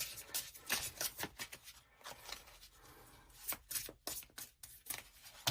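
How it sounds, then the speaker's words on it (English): Quiet, close riffling and flicking of cards in irregular bursts, with soft rubbing and slapping sounds between shuffles and no talking. "so I'll keep on shuffling"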